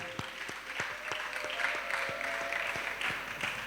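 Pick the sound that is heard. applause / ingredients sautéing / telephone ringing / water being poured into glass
applause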